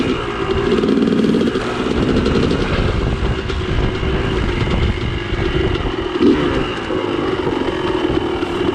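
A motorcycle engine runs steadily outdoors on a Saturday morning ride, a continuous loud rumble with little variation and no talking.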